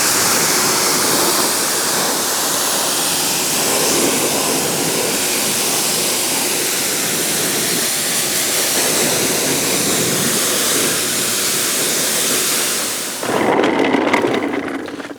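Water from a wash system sprays hard and steadily while an ATV is being washed, a loud continuous hiss that shifts and grows rougher near the end.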